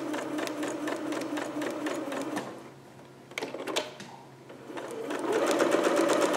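Sewing machine stitching back over a pinned seam while sewing a Vogue 8280 pattern, rapid close mechanical needle chatter in runs with a brief pause midway before stitching resumes.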